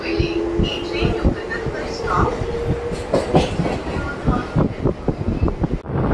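A local MMTS commuter train pulls away from Begumpet station in Hyderabad, steady rumble and rhythmic wheel clatter building under faint onboard voices.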